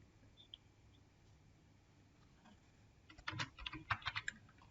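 A formula is typed on a computer keyboard in a spreadsheet, a quiet short burst of rapid key clicks after a few seconds of near silence, close and alone.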